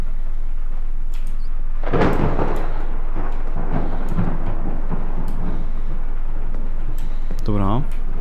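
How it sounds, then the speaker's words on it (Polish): Thunderstorm in the horror video game Escape the Ayuwoki: a loud thunder crack followed by a long rolling rumble, mixed with a voice talking and a steady low hum. "Spokojnie, to burza tylko."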